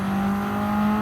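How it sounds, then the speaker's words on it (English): Subaru WRX STI in Gran Turismo 7, a steady engine drone with a sustained high turbo whistle held evenly, loud and close, no voices. "Just listen to the sound of this car, though. The turbo sounds amazing."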